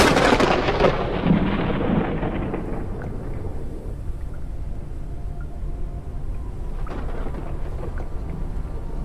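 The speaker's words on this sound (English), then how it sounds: "We're kind of a target here for lightning." Thunder from a lightning storm in the video game Forever Skies rolls in with a loud crack and long rumbling decay that fades over several seconds, followed by a faint later rumble, with no talking.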